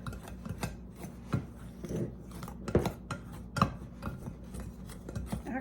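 Butter being worked into flour and baking powder in a bowl for blueberry lemon scones, with repeated soft scraping and rubbing strokes and light knocks of a utensil against the bowl, close and quiet.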